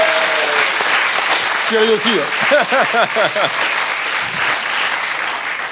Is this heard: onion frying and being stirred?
no